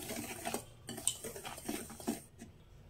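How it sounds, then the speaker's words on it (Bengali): Flour and a pinch of salt mixed in a bowl, with light clinks and scrapes of a utensil against the bowl coming in short irregular strokes, quiet and close. "শুকনো উপকরণগুলো আগে একবার মিশিয়ে নেব ভালোভাবে।"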